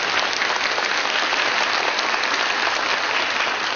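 Steady applause from a crowd, dense continuous clapping at an even level throughout.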